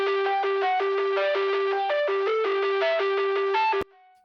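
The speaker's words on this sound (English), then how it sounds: "This is a driving distortion, so it's cutting frequencies off" A sustained synth melody through a driving distortion effect that cuts frequencies and adds resonance, with a gritty, saturated, resonant tone, playing a steady run of notes before cutting off abruptly.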